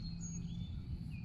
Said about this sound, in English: there's some birds chirping